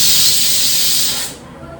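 A pressure cooker whistles loudly while pongal cooks, a sustained bright steam hiss that runs steadily for over a second before cutting off abruptly into a quieter room.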